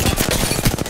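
Rapid automatic gunfire in a shooter video game, a close, loud burst of evenly spaced shots lasting under a second.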